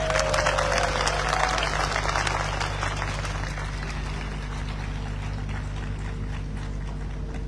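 Audience clapping at a live event in Dehradun, a dense wash of applause that starts strong and then settles into a steadier, slightly softer roar with faint crowd noise.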